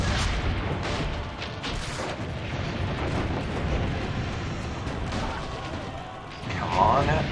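Cannon fire in the Rome-set Assassin's Creed: Brotherhood battle rumbles as a dense, heavy barrage of booms with chaotic battle noise, a voice speaking over it near the end.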